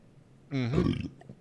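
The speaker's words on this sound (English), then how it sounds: "Good burp for me." A single loud burp from a person walking on an airport walkway, with a rough, drawn-out belch rising and then tapering off over about half a second.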